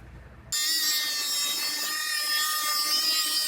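Power tool cutting wood along the inside edge of tape, starting abruptly after a brief quiet moment and then holding a loud, steady high-pitched whine with a gritty cutting edge.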